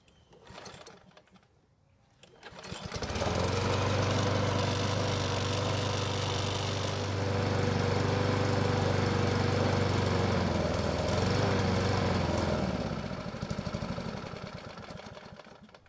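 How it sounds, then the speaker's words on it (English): LawnBoy self-propelled lawn mower engine running steadily on its last fuel, a loud, even drone that starts after a brief quieter moment and holds near and constant before beginning to fade at the end. "I'm going to run the engine till it dies, that way there's no gas in the lines or the carburetor"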